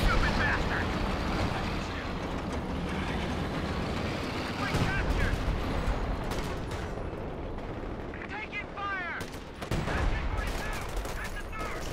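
A Company of Heroes 2 howitzer barrage rumbles through a continuous wash of battle noise, with repeated heavy blasts and crackling gunfire over a steady dense roar and a few sharper impacts toward the end.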